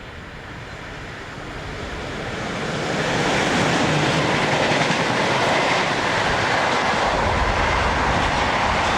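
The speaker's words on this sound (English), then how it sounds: "Here 185009 heads south at just after 7:30 in the morning." Electric locomotive 185009 hauls a southbound train past in the early morning, a loud, continuous rumble and rush of wheels on rails that swells after a few seconds and holds steady.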